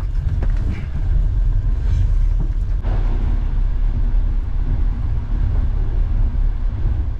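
Steady low rumble and rattle of a night train in motion in Ukraine, continuous broadband noise throughout with no voices.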